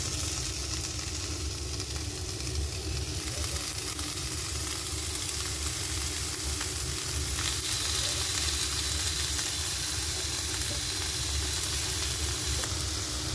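About 1.5 kg of small-cut chicken pieces fry in a pan for a spicy Kerala-style dish, giving an even, continuous sizzle that holds steady at moderate volume throughout.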